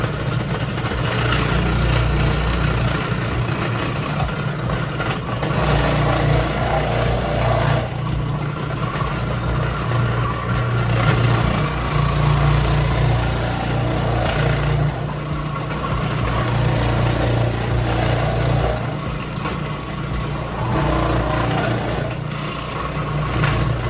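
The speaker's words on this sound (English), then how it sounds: "I've got my grater attachment on now. So I'm just going to stick these carrots in here" A food processor fitted with a grater attachment shreds carrots with a loud, continuous motor roar and a gritty churning that stays dense and even from start to finish.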